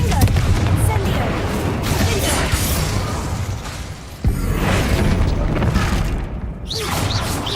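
Spell blasts from the Confringo and Incendio curses in a video game form a dense, continuous roar of booming bursts. A sharp crack lands midway, and the crackling stays loud throughout.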